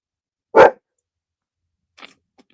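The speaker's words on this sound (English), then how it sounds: "I think Beefcake just came home, so I told you he barks at everybody" A dog named Beefcake, who barks at everyone, lets out a single sharp bark close by, followed by silence and a couple of faint distant clicks.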